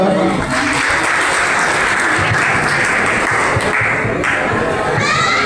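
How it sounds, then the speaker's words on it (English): A class of students claps loudly for a classmate in a school room, dense, even applause lasting several seconds with a faint voice underneath. "Clap for her."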